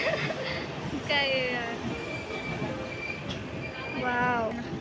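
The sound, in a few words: rattling old passenger train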